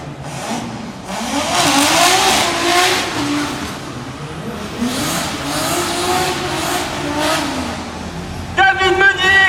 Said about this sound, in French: cette Nissan S14 de 500 chevaux